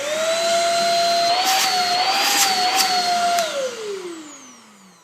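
A Shark Rocket vacuum cleaner head unit on setting 1 whines steadily and loudly up close, its pitch wavering slightly before winding down and fading out near the end.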